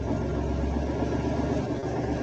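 A lifeboat engine on an offshore platform runs steadily with a low, throbbing idle, close and continuous throughout.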